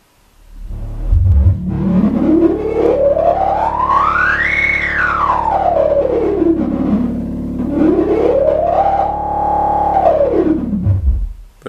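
A Zlob Modular Model T.H. state-variable filter on a modular synth self-oscillates with its resonance turned up, sweeping into a loud whining tone that rises and falls twice over about twelve seconds, with no voices.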